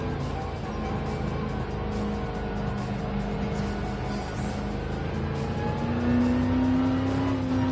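A race car engine in the video game Gran Turismo 7 drones steadily at high revs, its pitch climbing slightly near the end as the car accelerates, with no talk over it.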